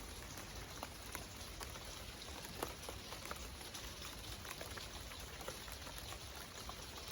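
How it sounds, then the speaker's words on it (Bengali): Light rain patters steadily on garden plants such as coriander and leafy greens, a soft continuous drizzle with scattered small drips and no voices. "কিছু গাছে পানি পড়ছে, বৃষ্টিতে টিপটিপ হচ্ছে।"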